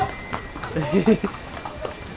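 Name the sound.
horses walking, hooves clip-clopping on mountain trail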